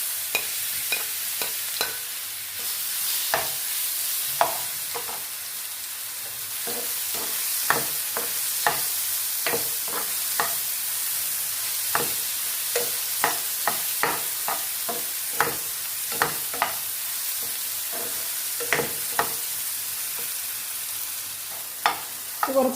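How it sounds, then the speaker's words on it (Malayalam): Chopped ripe plantain fries in hot ghee while a spoon stirs it, giving a steady soft sizzle broken by frequent sharp scraping clicks against the pan. The clicks come in an uneven rhythm and there is no talking. "ഇനിയിപ്പോൾ ഈ നെയ്യിലേക്ക് തന്നെ നമ്മൾ അരിഞ്ഞു വെച്ചിരിക്കുന്ന ഏത്തപ്പഴം അങ്ങ് ഇട്ട് കൊടുക്കുക."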